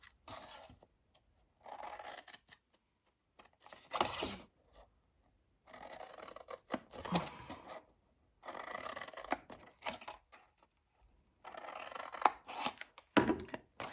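Scissors snipping through card in short, separate cuts, close and fairly quiet, with pauses between them.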